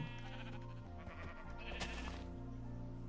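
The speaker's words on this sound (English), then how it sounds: "Stupid sheep." A Minecraft sheep bleats repeatedly over steady game music and tones, quiet overall, the calls wavering and overlapping.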